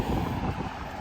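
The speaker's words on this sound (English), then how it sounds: "But, pero, the wind is blowing." Wind blows hard outdoors on a cold day, a short, steady roar of gusts buffeting the microphone at close range, with no voices.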